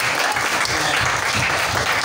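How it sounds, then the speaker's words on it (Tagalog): A church congregation claps loudly in praise of the Lord during a Filipino sermon. The dense, sustained applause fills the room close up and holds an even intensity throughout. "Palakpakan po natin ang ating"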